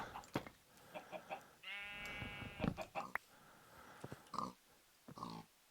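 A Minecraft sheep bleats in a long wavering cry, preceded and followed by scattered short clicks and thumps, with a faint electronic quality to the sound.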